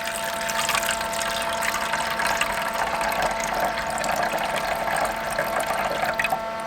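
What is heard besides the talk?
warm water filling incubator humidity reservoirs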